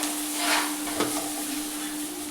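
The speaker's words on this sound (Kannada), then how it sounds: "ಇದು ಚೆನ್ನಾಗಿ ಫ್ರೈ ಆಗಬೇಕು." Chopped tomatoes fry with browned onions in a pan for a Marathi-style sambar, giving a continuous close sizzle and hiss with one brief utensil clink and no talking.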